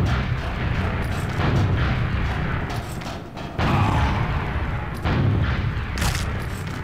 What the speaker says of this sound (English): The original, just like the black box, got its own rocket explosion sounds.